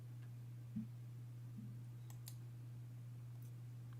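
Sparse computer keyboard clicks, a few soft isolated taps and ticks spread over several seconds, faint and close over a steady electrical hum, with no talking.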